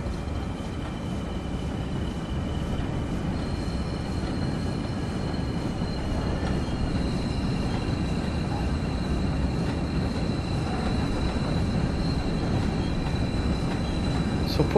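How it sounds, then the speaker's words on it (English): A loaded coal train with a string of wagons rolls steadily in a railway simulator on an early morning run, giving a continuous loud rumble with faint wheel whine throughout and no voices. "So putting some brake in now, just to try and slow the train down."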